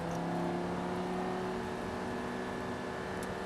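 An Audi R8 GT engine drones steadily with a rising rev as it accelerates, continuous and fairly close, no voices over it.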